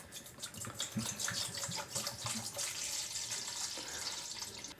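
About 310 milliliters of water splashes and gushes steadily into a bowl for pizza dough for a few seconds, close by and fairly quiet, with no talking.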